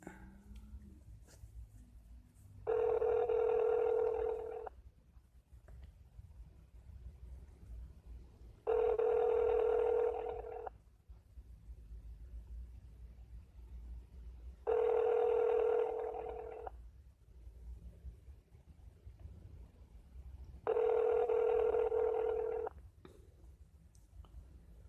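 A telephone ringback tone repeats four times, each two-second burst separated by about four seconds of quiet line hiss, steady and clear.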